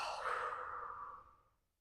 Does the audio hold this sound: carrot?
no